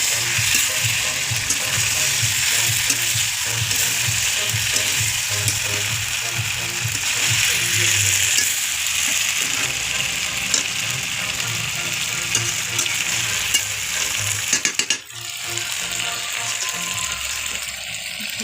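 Meat and diced fried potatoes are stirred in a hot pan for biryani. A continuous loud sizzle runs throughout, with rhythmic scraping and clicking of a utensil against the pan and a sharp clatter near the end.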